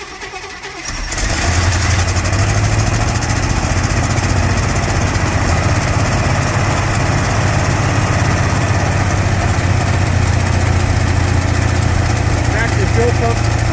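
A 1957 Chevy engine that sat for 35 years is cranked over and settles into a loud, continuous low mechanical drone heard up close, with voices talking nearby.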